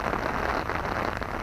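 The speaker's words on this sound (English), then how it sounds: "it is raining a little bit too hard today to do that outside." Rain falling hard on a rainy day near a forest, a steady, close, even hiss of drops with no voices.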